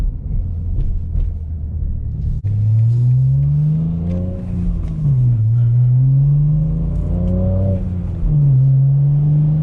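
A 2021 BMW M3 with a custom race exhaust and manual transmission drives along, its deep engine drone steady and close, rising and dipping gently in pitch with throttle changes, no talk over it.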